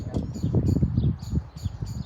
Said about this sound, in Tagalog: Ito po yung mga ibon dito.